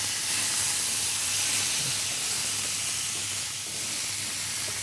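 Shrimp frying in a pan, giving a loud, continuous hiss and sizzle of hot oil with a low steady hum beneath; no voices.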